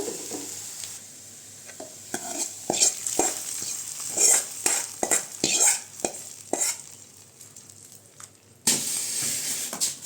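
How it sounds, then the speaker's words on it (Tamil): A tempering of sautéed onions goes into a chickpea curry, kondaikadalai kulambu. Soft sizzling runs under repeated sharp clinks and scrapes of a spoon stirring in the pot, and a louder hiss bursts in near the end. "இப்போ குழம்பு கூட சேர்த்துக்கலாங்க தாளிப்பை"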